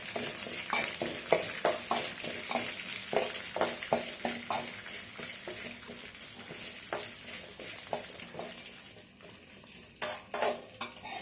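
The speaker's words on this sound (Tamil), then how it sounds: "உளுத்தம்பருப்பு கடலப்பருப்பு சேர்த்துக்கலாம் அதையும் நல்லா வதக்கி விட்டுக்கலாம்" Urad dal and chana dal are sautéed in a pan for road-side style mint chutney, with a quick run of spoon scrapes and clinks against the metal over a soft sizzle, nearby and fairly quiet.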